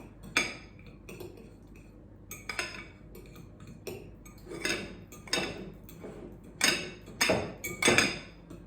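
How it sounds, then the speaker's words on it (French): Almond flour and yeast batter being mixed in a bowl: irregular clinks and scrapes of a utensil against the bowl, some louder strokes toward the end, no talking. "Je mélange."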